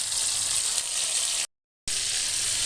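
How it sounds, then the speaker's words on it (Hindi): Thin, long strips of beef sizzle loudly and steadily in a hot pan, a bright continuous hiss broken only by a brief gap of silence. "ये देखें माशाल्लाह कितना ज़बरदस्त फ्राई हो रहा है"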